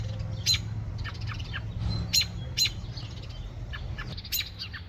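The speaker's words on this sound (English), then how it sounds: "And there's Mama Robin right there yelling at me." A mother American robin scolding near her nest in a garden with honeysuckle, giving short sharp repeated calls in irregular bursts against a low background hum, moderately near.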